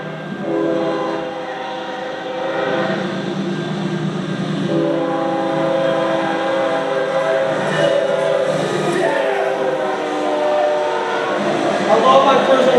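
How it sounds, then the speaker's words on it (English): A freight train hauled by a single locomotive drags a long string of coal hopper cars past at track speed, a steady loud rumble with a horn-like tonal blare rising and falling throughout, close by and with no talk. "One engine on this train pulled 105 hoppers out of the pier"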